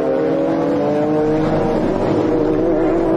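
A Maserati and a Ferrari GT race car battle at the 2004 FIA GT round in Dubai, their engines giving a loud sustained high-revving whine that rises and shifts pitch as they race close together.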